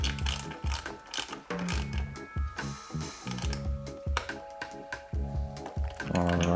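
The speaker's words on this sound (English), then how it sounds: "And let's torque up that screw." A torque wrench tightens the front derailleur screw on a road bike with a run of close, sharp ratcheting clicks in uneven bursts, and no one speaks.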